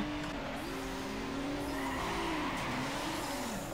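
A car spins out in a racing video game, its tires letting out a continuous wavering squeal over a steady engine roar from start to finish.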